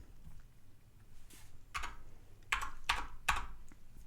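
Light typing on a computer keyboard, starting as a few soft scattered taps and then ending in three or four sharper, louder keystrokes. The keys are close by and no voices are heard.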